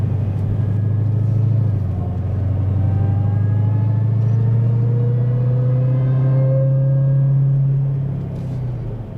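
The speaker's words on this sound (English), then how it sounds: "that supercharger whine is just something else" A 900 wheel-horsepower supercharged Dodge Hellcat cruises at light part throttle, its loud, steady engine drone carrying a rising supercharger whine that climbs in pitch before easing off near the end.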